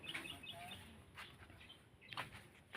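Chickens or roosters cluck faintly in a rural setting, a few short scattered calls and squawks heard at a distance over a quiet background.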